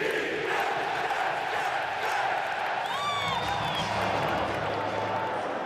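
Stadium crowd at a New York Jets football game, a loud dense roar of cheering and shouting that holds steady throughout, with a few whistles cutting through.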